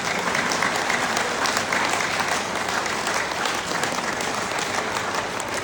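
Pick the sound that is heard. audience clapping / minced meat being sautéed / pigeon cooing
audience clapping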